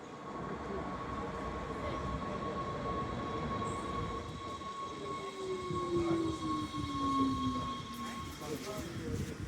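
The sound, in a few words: boarding and riding a train to Haarlem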